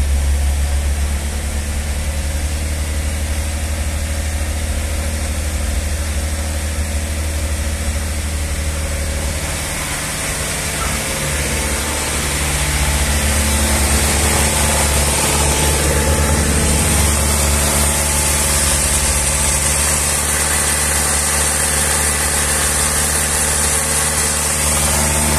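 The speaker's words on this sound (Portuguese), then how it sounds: "O motor não tá... Tá dando uma batidinha bem pouquinho" A tired car engine idles steadily after an internal engine flush, with a faint light knocking and a brief dip in revs midway before settling back to a loud, constant idle.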